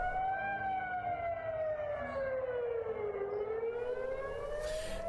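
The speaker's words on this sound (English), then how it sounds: "residents scrambled to shelters as air raid sirens rang out" An air raid siren wails over Tel Aviv during a rocket attack from Gaza, one long loud rising and falling howl that dips low midway then climbs again, heard alone without talking.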